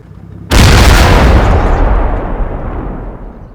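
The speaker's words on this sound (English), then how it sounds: "the Stug is engaged by a hidden T-34 and hit" A tank gun shot from a hidden T-34 slams into a German StuG assault gun in the Combat Mission wargame, one sudden loud boom that rolls into a long, fading rumble and debris noise.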